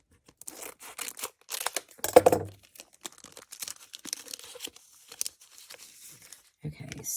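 Scratch-and-reveal sticker packaging is torn open up close, giving a sharp rip near the middle with crinkling and rustling before and after. The sound is fairly quiet, with a voice murmuring now and then.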